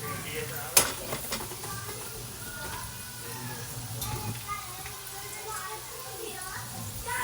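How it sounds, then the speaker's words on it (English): French fries frying in hot oil at home, a steady low sizzle running throughout with a sharp clink of a utensil near the start and background voices talking over it. "so these fries are frying"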